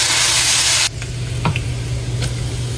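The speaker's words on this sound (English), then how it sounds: "Cook bacon." Bacon cooking for fried rice gives a loud broadband hissing sizzle that cuts off abruptly after about a second, leaving a quieter low sizzle with a few faint clicks.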